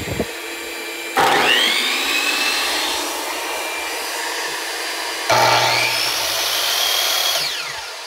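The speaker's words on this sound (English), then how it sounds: "So when I started that miter saw, you could see that initial surge" A miter saw runs from a Ford Pro Power Onboard truck outlet, its motor whining up to a loud high-pitched spin, running steadily, then winding down before a second start that spins up and runs again.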